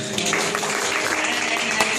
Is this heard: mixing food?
no